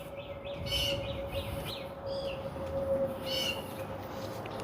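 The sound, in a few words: bird chirping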